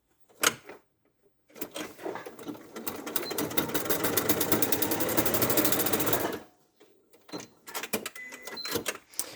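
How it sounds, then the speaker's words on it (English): A sewing machine stitches a small piece of teddy bear leg, running steadily for about four seconds after a few short clicks of handling, then stopping. Brief handling noises follow once it falls quiet. "And then I'll sew this little bit of leg together."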